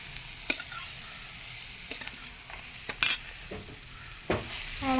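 Green chillies fry and sizzle in a pan for masala macaroni, with steady hiss and a few sharp scrapes and clinks of a stirring spoon scattered through, no voices.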